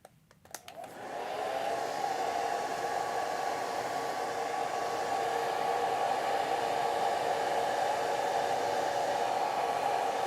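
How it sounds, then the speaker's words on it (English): A hair dryer is switched on with a click and blows steadily at close range to dry a watercolor landscape painting of rock arches, producing a constant, even whooshing hum that holds for several seconds. "Let me blow dry"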